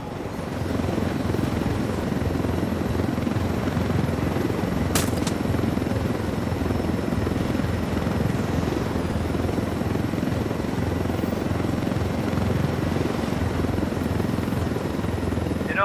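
Helicopter flying in Ghost Recon Wildlands, a continuous loud rotor drone and engine rumble running throughout, with a brief sharp click partway through and no speech.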